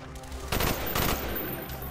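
Gunfire from Call of Duty: Black Ops comes in two dense, loud bursts of rapid automatic shots, separated by a brief pause.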